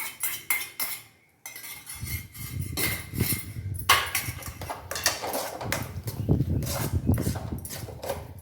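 Roasted cashews and raisins tumble into a pan of rava kesari, with sharp metallic clinks and scrapes of a spoon against cookware, close and fairly loud, coming in irregular bursts.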